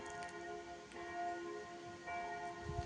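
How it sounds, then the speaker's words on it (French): Church bells ring in a steady resonant peal near a free motorhome parking area, with sustained tones and a few fresh strikes, heard from a moderate distance without speech. "Il y a les cloches qui sonnent."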